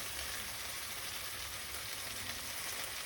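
Olive oil hits a pot preheated on maximum heat and sizzles in a steady, hissing wash, constant and fairly loud with no talk over it.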